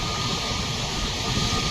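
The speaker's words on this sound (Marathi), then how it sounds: "आता हे इंडिगोचं विमान पुढे सरकेल" An IndiGo airliner on the ground at Mumbai airport gives off a steady, broad jet-engine roar as it moves forward toward the runway, heard at a moderate distance without any voices.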